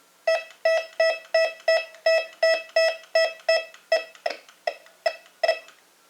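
Sweeping over a tin ring, a Bounty Hunter Tracker IV metal detector emits a steady, evenly spaced run of about a dozen sharp, clean beeps, close and clear with no other sound.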